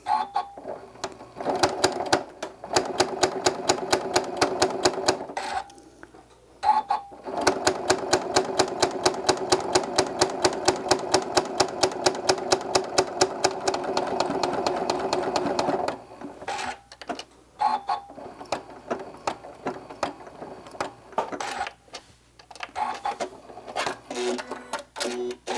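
A sewing machine runs decorative stitches in fast, even bursts of rapid mechanical clatter, stopping and starting with short pauses between runs, close and loud.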